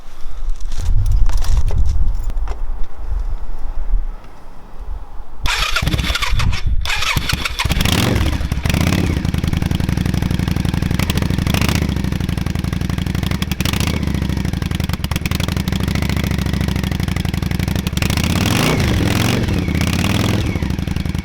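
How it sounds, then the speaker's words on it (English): A motorcycle coughs and cranks, then fires up with a loud, throaty exhaust that settles into a steady, rumbling idle up close. "I'll start it up now so you can hear what it sounds like"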